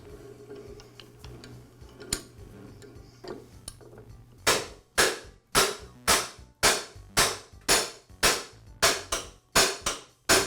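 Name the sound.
rubber mallet tapping tile saw blade shaft out of housing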